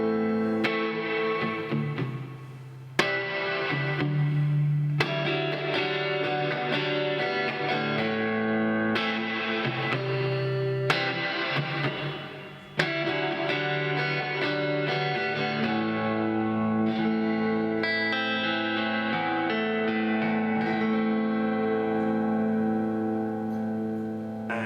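Fender Player Telecaster electric guitar played through reverb, a sustained run of ringing chords and single notes with a wet, spacious tail, loud and close with no talk.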